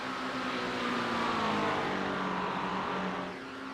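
A BMW race car engine in the iRacing sim at the 24 Hours of Spa, a sustained high-pitched whine that holds steady and then eases off slightly toward the end, loud and continuous with no voices.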